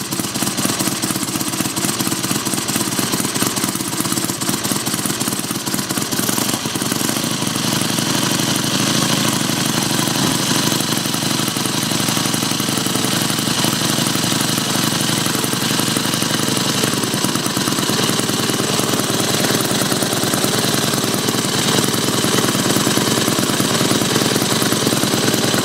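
Small Mini Hog 70 minibike engine running steadily at close range, a loud continuous rattling drone with a knocking, jackhammer-like chatter that holds for the whole stretch with no speech.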